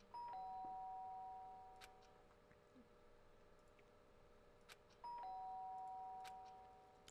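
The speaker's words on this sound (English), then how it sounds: "Sharp sound of the doorbell pierced my sleepy haze" A two-tone electronic doorbell chime from a video game, Danganronpa: Trigger Happy Havoc, rings twice, several seconds apart, clear against a quiet, faintly humming background.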